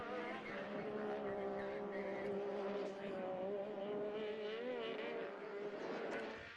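A Can-Am off-road vehicle races around a dirt track in a King of the Shell event, its engine a loud, continuous, varying drone with shifting pitch throughout, close and steady with no pauses.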